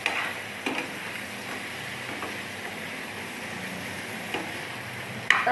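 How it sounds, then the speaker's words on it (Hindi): Chicken frying with garlic and ginger in a pan over a medium flame, a steady soft sizzle with a few sharp clicks of a spoon against the pan. "तो चिकन को हम लहसुन और अदरक के साथ फ्राई करेंगे।"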